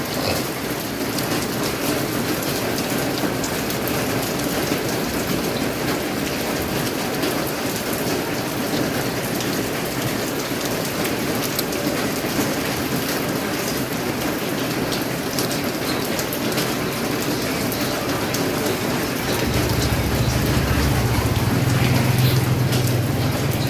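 Steady, dense rain pours down outdoors as a loud, continuous hiss of drops hitting surfaces. A low rumble swells in near the end.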